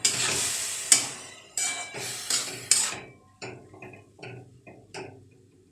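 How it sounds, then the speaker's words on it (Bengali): Amla (Indian gooseberries) stirred in a pan over a low gas flame, giving a series of scraping, sizzling strokes, dense for the first three seconds and then lighter, more spaced stirs, close by with no talk. "গ্যাসটা লো ফ্লেমে রেখে আমলকিটা আমি নাড়তে থাকবো যতক্ষণ না পর্যন্ত আমলকি জলটা শুকিয়ে আসছে।"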